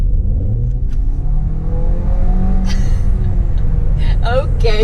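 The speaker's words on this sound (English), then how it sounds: "So it does kind of strain under harsh acceleration." A Toyota RAV4 with a CVT strains under hard acceleration, its engine droning loudly and steadily with rising, whining tones, heard from inside the cabin as a voice speaks over it.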